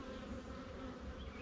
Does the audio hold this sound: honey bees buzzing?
yes